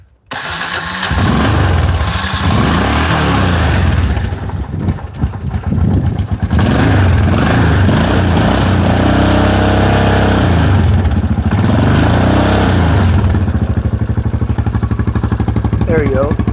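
A small engine, probably a motorcycle, catches and runs roughly as it warms up after running on choke, idling loudly with uneven revs close by, while a voice is faintly heard underneath.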